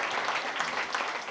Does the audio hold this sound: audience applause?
yes